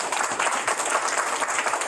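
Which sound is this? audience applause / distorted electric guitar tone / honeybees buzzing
audience applause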